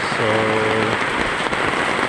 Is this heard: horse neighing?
no